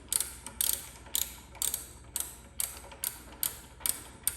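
A ratchet loosens the front axle of a 2011–2019 Suzuki GSX-R 600/750 motorcycle, giving about nine evenly spaced clicking bursts, close but fairly quiet, with no talking.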